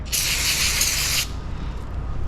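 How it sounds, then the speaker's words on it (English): A short burst of brake cleaner sprayed from an aerosol can onto a rag, a sharp hiss lasting about a second, then quieter background noise. "we're gonna run some brake cleaner over these to kind of clean them up"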